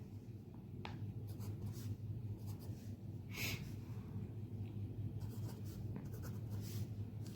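Pen scratching out numbers on paper up close, in short irregular strokes and taps with brief pauses, over a steady low room hum.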